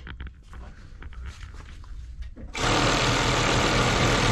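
A PX302 sewing machine, a modified single-needle unit, starts up after a few quiet handling noises and runs loud and continuous, a fast dense whirring stitch that carries to the end.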